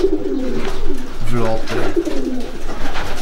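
Racing pigeons coo softly in their loft, several birds murmuring in overlapping rounded calls close by while someone talks over them.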